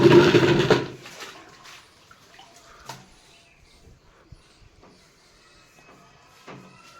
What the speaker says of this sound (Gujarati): ગોપાલભાઈ અત્યારે પાછળની સાઈડ ધોવાનું કામકાજ કરે છે